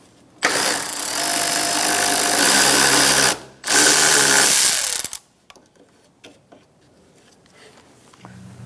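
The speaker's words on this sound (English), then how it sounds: "Now we're going to take out this bolt with a 10mm socket." A power tool drives a 10mm socket to remove a bolt at the headlight of a 2004–2009 Mazda 3, giving a loud, close whirring burst of several seconds with one brief pause, then faint clicks and handling noises.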